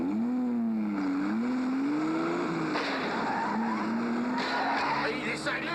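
Car speeding past a truck on the road, tires squealing loudly and engine whining in a wavering pitch, a continuous close-up roar with no pauses.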